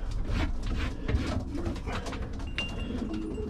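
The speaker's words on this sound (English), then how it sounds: "the pigeons seem to go mad for it" Racing pigeons coo around a feeding box in their loft, with repeated soft, throaty calls from several birds overlapping close by and continuing throughout.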